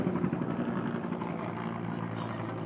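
A helicopter drones steadily nearby during an outdoor press briefing, with a continuous rotor rumble and engine hum that stays loud throughout.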